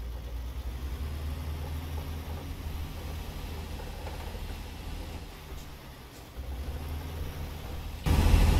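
A Cat 3306 diesel engine in a Peterbilt 357 truck idles in American Truck Simulator, a steady low rumble held for several seconds that swells louder at the end.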